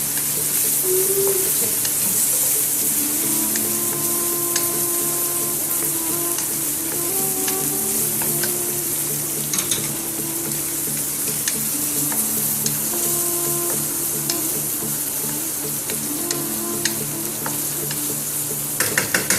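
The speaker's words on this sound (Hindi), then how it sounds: "अब हम इसमें तवे डाल के इसको फ्राई करेंगे।" Finely chopped chicken breast pieces fry on a hot pan with a steady, close, loud sizzle and hiss, broken by occasional stirring clatter throughout, with no talk.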